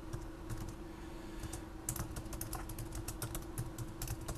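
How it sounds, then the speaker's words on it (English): Typing on a computer keyboard during a demo at a banking website login, a quick irregular run of light key clicks that grows busier partway through, close and clear with no voices. "I'm going to type it all in"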